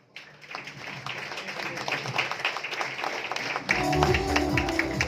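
A stage event at a Shirdi celebration greets a doctor named Kiran Tilekar with applause that swells from quiet scattered claps into a dense, sustained crowd ovation, growing louder near the end. Faint voices sit underneath it.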